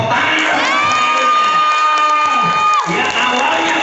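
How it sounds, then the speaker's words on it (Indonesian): Audience at a church healing testimony gathering bursts into loud cheering and high-pitched shouting with some clapping; a sustained, energetic crowd roar with sharp rising voices, close and loud. "Tepuk tangan."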